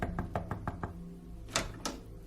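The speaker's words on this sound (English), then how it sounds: "walked up the driveway, and knocked on the front door" Knocking on a front door: a quick run of five raps followed by two louder, separate knocks after a pause, close and clear with no talking.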